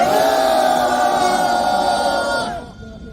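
A crowd at a public servants' union press rally shouts together in a loud, sustained roar for about two and a half seconds before it cuts off and fades into quiet.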